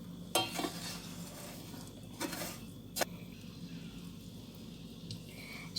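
Sugar melting into caramel in a pan, stirred with a spoon that scrapes and clinks against the sides in a few sharp strokes over a soft, steady sizzle, with no voices.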